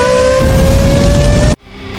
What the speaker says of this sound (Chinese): 陆晨风连超数车，现在来到了第2的位置